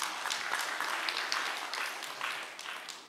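A congregation applauds at a church new-family invitation seminar in Incheon and Bucheon, a dense, steady patter of many hands that stays fairly faint and distant for about three seconds.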